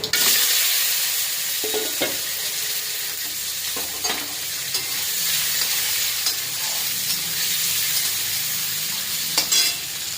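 Catla fish head sizzles and fries steadily in hot oil with five-spice, dried chilli, bay leaf, onion, tomato and potato, a continuous close hiss broken by occasional stirring scrapes and clinks.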